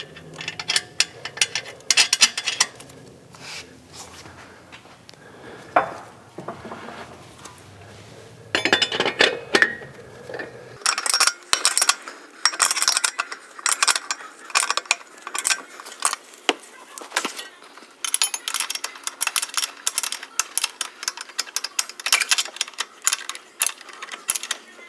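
Metal clinks and ratcheting clicks come as nuts are tightened on a Mustang strut mount, in irregular bursts of close, sharp taps and rattles.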